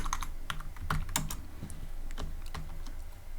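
Rapid typing on a computer keyboard, close and clear, a dense run of light key clicks with a few sharper taps, no voices.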